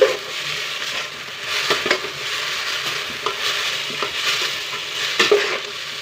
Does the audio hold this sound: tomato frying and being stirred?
yes